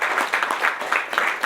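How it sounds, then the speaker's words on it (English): Conference audience at a proptech event clapping to welcome a speaker, a brief burst of rhythmic hand claps, fairly close and lively. "A round of applause for Ope."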